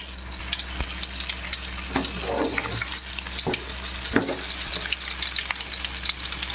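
Mutton leg pieces fry in oil for biryani, giving a steady hissing sizzle with scattered spatters and a few stirring knocks, close and moderately quiet.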